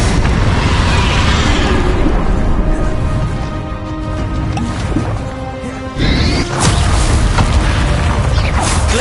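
A Bombarda explosion spell cast in Hogwarts Legacy, a loud blasting burst amid dense, busy combat effects, with a sharp renewed surge partway through and continuous mechanical clatter throughout.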